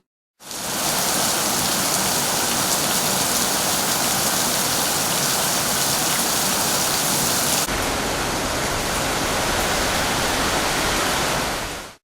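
Heavy monsoon rain pours down in a dense, steady roar of hissing water, loud and unbroken for the whole stretch, with no voices.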